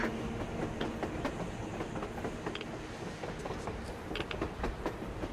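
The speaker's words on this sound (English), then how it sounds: "A damn train on the surface!" A train rolls along rails in Metro Exodus, a continuous rumbling clatter with repeated clickety-clack beats and occasional metallic clanks, loud and steady throughout.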